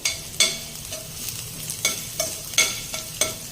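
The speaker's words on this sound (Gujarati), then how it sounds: "લસણ થોડું તતડે એટલે આપણે તેમાં આદુના ટુકડા પણ નાખી દઈશું" Garlic sizzling in hot oil for veg Hakka noodles, with ginger pieces about to be added, heard as close crackling with a series of sharp spatula clicks and scrapes against the pan.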